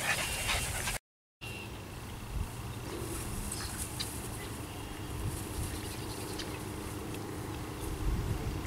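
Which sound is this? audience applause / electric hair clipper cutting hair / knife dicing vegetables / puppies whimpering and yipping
puppies whimpering and yipping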